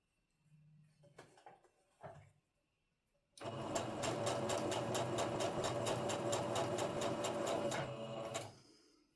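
A sewing machine stitching quilt patch squares together for a nine-patch quilt, a few short handling noises first, then a steady, fast mechanical run of needle strokes lasting about five seconds before stopping.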